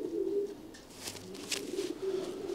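Soft, low racing pigeon cooing repeats in short phrases, with faint chirps and some background noise, no talking.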